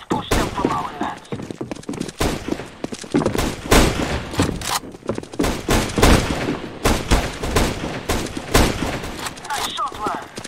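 Rapid gunfire from Counter-Strike: Global Offensive, with dense bursts and single shots rattling continuously for about ten seconds, loud and close, with overlapping automatic volleys and sharp cracks.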